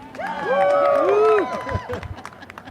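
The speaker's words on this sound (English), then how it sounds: "Can always get a cheer from CSCA." A crowd at the Buffalo Convention Center renovation announcement gives a short, loud cheer of overlapping voices that swells and fades within a couple of seconds, with a bit of clapping.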